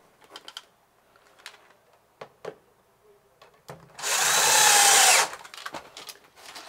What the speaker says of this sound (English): we're going to drive a screw right through the back wall